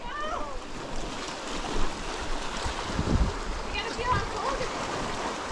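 Flowing stream water rushes and splashes steadily at moderate distance on a hiking trail, with voices talking over it.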